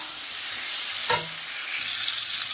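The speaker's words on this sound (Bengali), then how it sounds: "এবার আমি আমার সেদ্ধ করা আলু আর মটর সব দিয়ে দিলাম। এটা একটু কষাবো।" Boiled potatoes and peas are stirred and sautéed in a pan with tomatoes, giving a soft sizzle with one sharp scrape of the utensil near the middle, close and fairly quiet.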